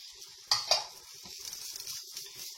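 Onions, chives and chili being stirred in a pan, two sharp metallic utensil knocks followed by softer scraping and a light sizzle, close up with no voices.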